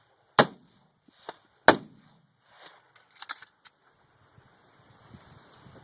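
A single-shot rifle fires outdoors: two sharp, close cracks with short echoes about a second apart, followed by lighter clicks and rattling handling noises.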